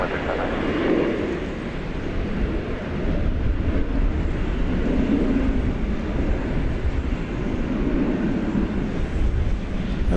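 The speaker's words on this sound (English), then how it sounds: "Going to Philadelphia. Flight 3239, Airbus A321." An Airbus A321 airliner on flight 3239 to Philadelphia gives off a loud, steady jet roar at an airport, broad and continuous with no break over ten seconds.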